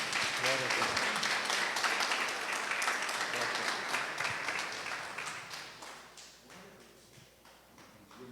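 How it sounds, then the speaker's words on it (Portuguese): Church congregation applauding a pastor at a Brazilian service, a dense wash of clapping that starts loud and gradually fades, with some voices and tapping underneath. "Vamos receber o pastor aplaudindo o Senhor"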